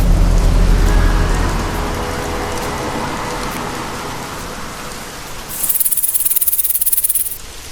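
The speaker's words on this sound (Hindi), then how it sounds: "पिछले 3 दिनों से बिना रुके लगातार बारिश हो रही है।" Heavy, steady rain pours down as a dense, continuous hiss with a low rumble early on. A brighter, louder spatter of rain swells near the end.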